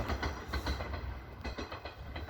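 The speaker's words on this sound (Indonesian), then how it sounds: "Tuh, ada kereta lewat, keretanya cuma 2 gerbongnya" A short train with only two carriages passes close by, a steady low rumble with faint rhythmic clickety-clack running throughout, no talking.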